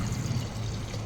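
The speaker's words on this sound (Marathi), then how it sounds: "मग पाणी टाकायचं ह्याच्यात" Water poured into a pot of veg pulao with garam masala and salt, a short close steady gurgling pour at low volume.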